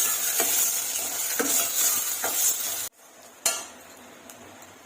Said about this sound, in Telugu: ఆయిల్ పోసుకొని వేడెక్కినాక ఉల్లిపాయలు వేసుకున్నాము, పచ్చిమిరపకాయలు, ఉల్లిపాయలు బాగా ఫ్రై అవ్వాలండి.